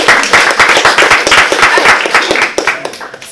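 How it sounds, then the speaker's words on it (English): Audience at a Toastmasters-style club meeting applauding the evaluators: dense, sustained clapping from many hands, fairly close and loud, with no voices over it. "So give all the evaluators a round of applause."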